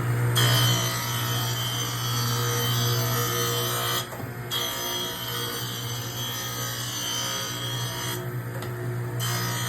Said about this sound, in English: So we'll wait for this to grind up, and you'll be able to feel the edge on it when it's done.